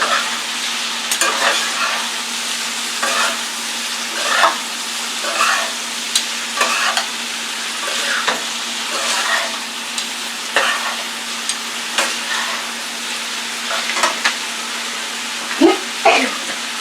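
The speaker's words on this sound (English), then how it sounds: "Now we're going to act like we're stir frying." Garlic pasta stir-fries in olive oil with a constant hiss of sizzling, broken by regular scraping and tossing strokes about once a second, close and loud with no talking.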